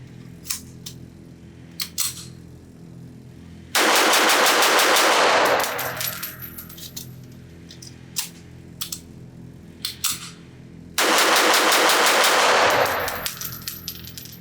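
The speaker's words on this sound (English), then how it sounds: "how accurate it is when I'm shooting it as fast as I can" Arsenal Bulgarian Makarov pistol in .380 ACP fired as fast as possible at a shooting range, two loud bursts of rapid, closely spaced shots, each lasting about two seconds, separated by quieter clicks and handling sounds.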